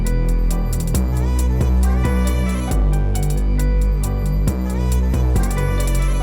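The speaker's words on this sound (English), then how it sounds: "I just started with a 2-step hi-hat pattern and then just added a few accent hats here and there" A programmed beat with a 2-step hi-hat pattern and scattered accent hats, crisp ticking hats riding over a dense sampled loop with heavy low end, loud and steady throughout without talk.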